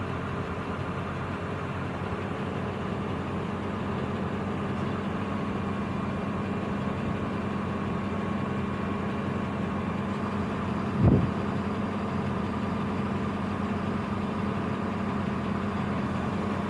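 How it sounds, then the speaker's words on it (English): A loader's heavy diesel engine idles steadily nearby with a deep, constant rumble, broken once by a brief thump. "The loader just pulled up beside me"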